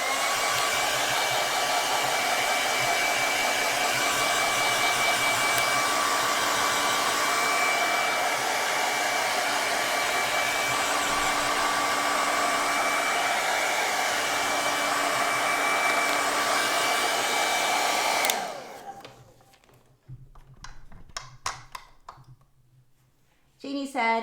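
A hair dryer runs steadily and loudly for about eighteen seconds, drying fresh paint on a canvas during a live painting session, then cuts off abruptly, leaving scattered faint clicks and handling noises.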